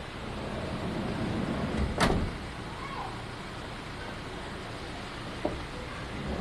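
The door of a 2019 Toyota Commuter van shuts with one sharp thud, close by, over a steady low hum from the running engine.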